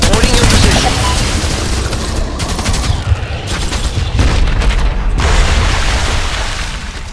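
Gunfire and explosive booms from the PC game Dead Alliance, a dense, loud battle din of rapid shots with heavy blasts throughout, with brief dips in the middle, under faint game voice.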